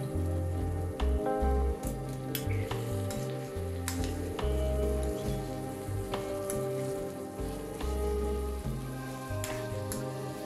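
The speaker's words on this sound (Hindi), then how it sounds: "मटन को हमने प्याज में भूनना है अच्छे से" Mutton frying with onions in a pan for a mutton and potato curry, a steady loud sizzle with occasional stirring scrapes and clinks running throughout, close up and without talk.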